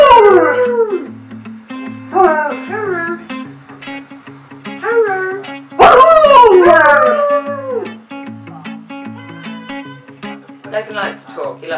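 An Alaskan Shepherd dog howls and yips in a run of rising, wavering cries, close and loud, with a low hum underneath and a person's voice talking in between the calls.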